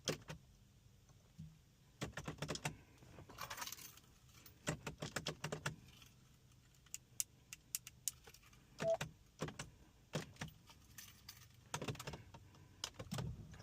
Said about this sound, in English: Okay, so then you just turn the ignition on.